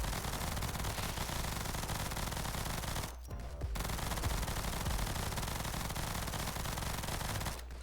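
Rapid gunfire from splitting bullets in the video game Nimrods, a dense continuous rattle of shots at high level that stops briefly midway and again near the end.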